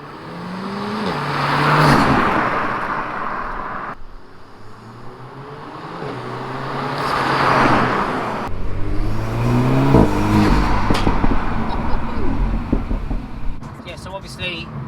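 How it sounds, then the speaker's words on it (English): Car with a K-tec aftermarket air intake making repeated flybys, each pass swelling from far to near with rising engine drone and intake whoosh, then fading, three passes in a row with no talk. "So I'm going to go and take it for a rip and do some little flybys and see if we can catch a little bit more whoosh in action."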